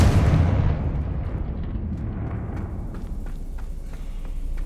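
An explosion from the Confringo fire spell in a video game, a loud, heavy boom at the start that decays into a long rumbling roll with scattered crackles trailing off.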